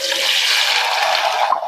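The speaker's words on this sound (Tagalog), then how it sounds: "Magpiprito ho tayo ng patatas." Potatoes fry in a pan for pork menudo, giving a loud, steady sizzling hiss that runs unbroken and alone, with a brief shift near the end.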